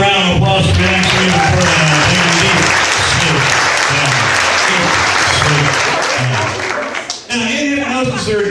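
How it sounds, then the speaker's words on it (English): Loud, sustained audience applause fills a hypnosis stage show, dense clapping throughout with a host's voice speaking over it and a brief dip near the end. "Give them all another round of applause"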